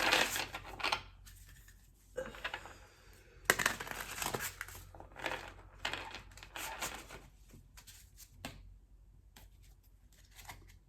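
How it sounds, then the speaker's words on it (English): Soft, papery riffling and flicking of cards, in uneven bursts with pauses between, quiet and close. "these cards are taking forever to get shuffled"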